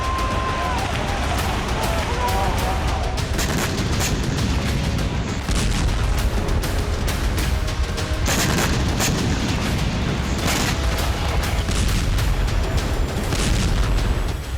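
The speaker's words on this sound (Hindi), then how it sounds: "इजरायली एयरफोर्स अब बेरूत में इस तरह से पिन पॉइंट अटैक कर रही है" Israeli airstrikes hitting buildings in Beirut, heard as repeated heavy booms and sharp blasts over a dense, loud, continuous rumble of urban destruction.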